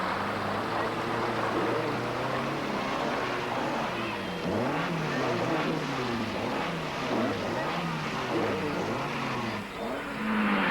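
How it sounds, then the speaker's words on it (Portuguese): A 1970s Peugeot rally car sliding along a Safari Rally stage, its engine droning loudly and revving up and down in repeated waves of rising and falling pitch throughout, fairly close. "Este é Jean-Pierre Nicolas, deslizando no seu Peugeot até um posto de controle."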